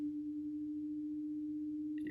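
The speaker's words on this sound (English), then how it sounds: "you hear that's beats because the bandwidth of these two slightly different sine waves are overlapping" Two slightly detuned sine waves sound together as a single steady pure tone that throbs slowly and regularly in loudness as they beat, then ends with a brief click.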